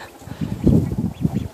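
Baby ducks newly brought into a chicken flock give several close quacking calls in quick succession, loud and uneven, with no talk over them.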